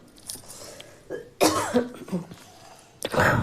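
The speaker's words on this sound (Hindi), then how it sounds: "वो किचन का भी स्मेल आ रहा है तो मुझे खांसी आ रही है।" Several sharp coughs come in short bursts with pauses between them, close and fairly loud, with no talking, set off by kitchen smells.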